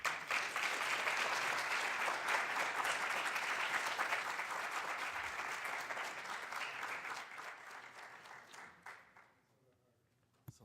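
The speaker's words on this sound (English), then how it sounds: "let's give a round of applause to our speaker" A crowd at a civic summit applauds a speaker in a dense, steady patter that holds for several seconds, then gradually fades to scattered claps and quiet.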